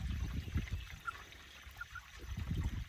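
Fresh water trickling and running for chickens in a mountain coop and pasture, a soft, steady dribbling flow with faint splashes, close by and fairly quiet, no talk.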